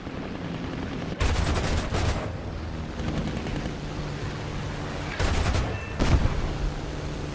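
Bursts of rapid heavy cannon fire from a Bf-109 G-6 fighter in the video game War Thunder, several loud volleys over a constant engine drone.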